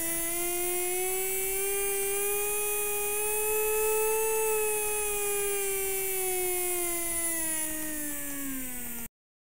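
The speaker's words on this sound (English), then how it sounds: "If I press the start, the motor will start rotating." A small DC motor driven through an L298N module under NodeMCU ESP8266 speed control whirs steadily with a clear rising and falling pitched whine, close and alone, then cuts off abruptly near the end.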